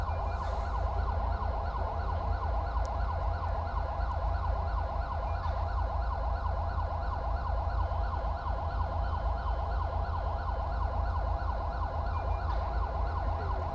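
In the Los Santos Emergency Blue simulation game, emergency vehicle sirens wail in a continuous, rapidly cycling up-and-down pattern over a steady low engine hum. The sirens stay at an even, moderate level throughout with no talking.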